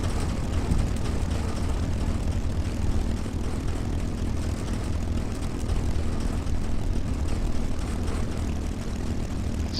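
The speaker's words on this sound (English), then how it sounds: "I know it sounds like we're ripping the gear on the Mustang to shreds, but I swear we're not" A P-51D Mustang in a flight simulator taxis with a steady, loud, low propeller engine drone and a constant rumble and rattle from the landing gear, continuous throughout with no talk.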